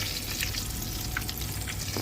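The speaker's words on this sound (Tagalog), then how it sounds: "Prito-prito lang ng talong." Eggplant fries in hot oil outdoors with a steady, dense sizzle that stays close and even throughout, with faint crackles and no talk.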